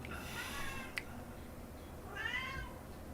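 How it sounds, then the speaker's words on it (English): A cat meows twice, a drawn-out cry followed by a shorter one after a pause, moderately close in a quiet room. "Can you hear the cat?"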